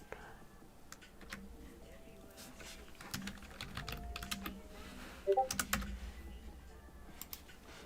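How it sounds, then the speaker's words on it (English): Rapid clicking of typing on a computer keyboard, close and fairly quiet, in bursts of keystrokes with brief pauses, with soft speech and whispering at times underneath. "I'm busy typing over here"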